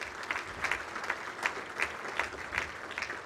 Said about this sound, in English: Give him a round of applause real quick for Mike Perella.